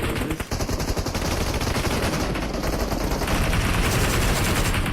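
Rapid automatic gunfire from the battle royale game PUBG Mobile rings out in dense, loud, continuous bursts that fill the whole stretch with little pause.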